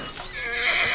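A horse in The Last of Us video game gives a single short, loud whinny, a rising shrill neigh heard up close and alone.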